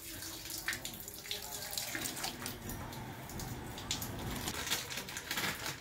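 Water pours in a steady rushing stream from the membrane of a 1000-litre-per-hour RO water plant being serviced, with a constant hiss and splash and no speech.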